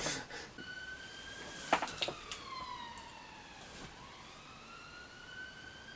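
A voice imitates a siren with a sustained wailing tone that slides down and then back up, fairly faint, with a few short clicks and noises in between.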